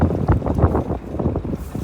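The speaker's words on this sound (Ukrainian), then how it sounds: "вітер просто капець" Strong wind buffets the microphone in heavy, low rumbling gusts that surge and fade in quick succession.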